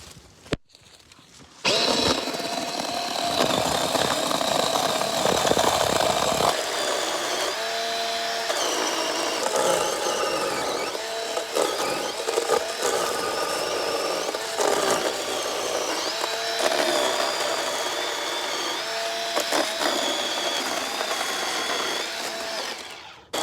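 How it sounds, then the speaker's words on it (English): A battery-powered chainsaw cuts fallen wood in hot Florida after Hurricane Milton, its motor whining steadily and close for about twenty seconds, dipping and rising as the chain bites into the wood, with no voices. "one of the best investments I've made is battery powered chainsaw."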